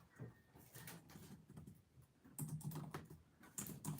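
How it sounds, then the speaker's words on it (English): Soft, irregular clicking of keys on a computer keyboard, quiet and close, with bursts of faster typing and short pauses between. "I'm typing that as I'm looking down."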